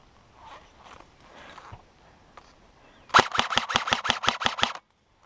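Airsoft guns fire a fast burst of about nine sharp, loud pops during a capture the flag game, following quieter rustling and movement.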